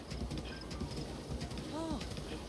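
Hooves of a giant horse clip-clopping as it gallops in Breath of the Wild: a steady, quiet hoof rhythm with a brief tonal whinny-like call, and a voice talking over it.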